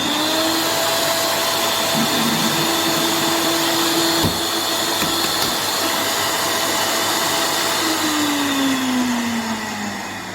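A Waring Xtreme MX1500 blender with only ice inside runs its motor at a constant high whine while a faulty clutch keeps the blades from turning, a loud, steady drone that dips in pitch near the end.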